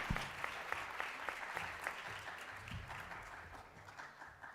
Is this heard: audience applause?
yes